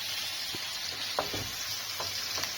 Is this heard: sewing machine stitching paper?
no